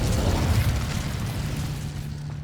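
A spell burst from the Hogwarts Legacy video game, the Incendio fire spell, plays as a loud, sustained whooshing roar of flame with a low rumbling body that holds steady for a couple of seconds before easing slightly.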